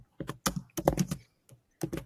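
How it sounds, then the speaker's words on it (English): Keys clatter on a computer keyboard during a sports podcast recording, in uneven bursts of rapid taps separated by short pauses, close to the microphone and without speech. "can you please stop typing?"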